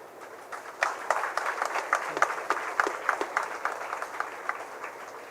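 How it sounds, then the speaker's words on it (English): Modest audience clapping at a college initiation day, starting abruptly and continuing as a thin scattering of distinct claps rather than a loud ovation. "Thank you for those not loud enough claps."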